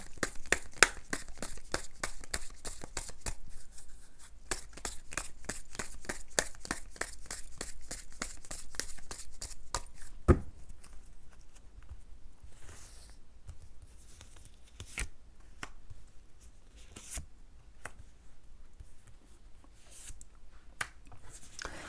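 Tarot cards being shuffled and drawn: a quick run of crisp, regular card flicks, then softer scattered slides and taps as cards are handled, close and quiet with no talking.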